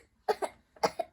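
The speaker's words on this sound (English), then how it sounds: "You have a cough?" A child coughs twice in quick pairs, close and fairly soft, two short harsh bursts each time with a brief pause between, in a quiet room.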